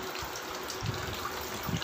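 Water gushes like a small waterfall into a kiddie pool, a continuous close splashing pour with a few soft surging pulses.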